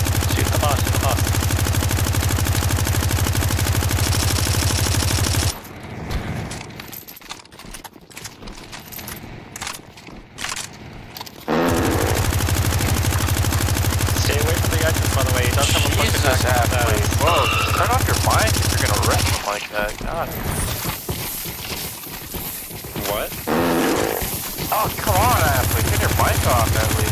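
Rapid automatic gunfire in CS2 Zombie Escape on the ze_8bit map as players shoot at the boss, dense continuous bursts with two short lulls, loud and up close amid game effects.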